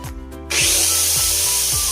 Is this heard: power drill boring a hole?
yes